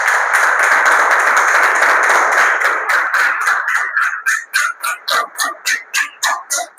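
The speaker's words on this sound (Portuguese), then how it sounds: "Se você crê, aplauda esse Deus." Congregation clapping at a church service, starting as dense continuous applause and settling into steady, loud rhythmic claps in unison toward the end.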